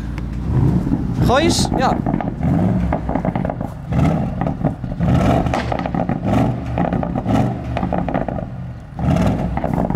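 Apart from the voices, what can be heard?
V8 car engine revving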